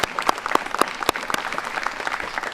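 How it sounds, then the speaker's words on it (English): An audience at a Hall of Fame awards ceremony gives a round of applause, with a few distinct loud claps standing out over steady clapping from the crowd. "Let's give everybody a round of applause."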